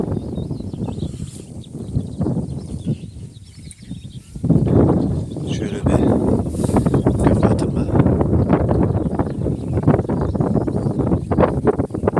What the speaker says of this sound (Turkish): Bu saatten sonra da dalga çok dalga, rüzgar çok.